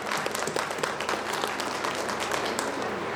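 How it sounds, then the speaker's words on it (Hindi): Dense, steady applause fills a hall as the audience at a Modicare team celebration program in Contai claps loudly for the team, with no clear speech over it. "आप लोगों के लिए एक जोरदार ताली हो जाए।"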